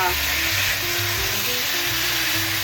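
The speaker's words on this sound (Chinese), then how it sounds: "然後大火快炒，一直炒到所有味道融合。" Tomato, tofu skin and frozen edamame are stir-fried over high heat, giving a steady, loud, close sizzle that fills the whole stretch without a break.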